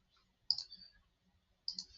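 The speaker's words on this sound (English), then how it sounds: "So I did that just by clicking the plus sign there." Two crisp, quiet computer mouse clicks, about a second apart, stand alone against near silence.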